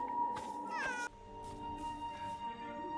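A cat in the Forspoken game, a horned familiar, gives a couple of short rising meows close up over a steady game music bed.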